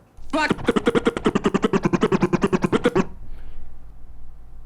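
A rapid series of about twenty short, evenly spaced DJ chirp scratch strokes on a turntable, loud and close, ending abruptly after a few seconds into quiet.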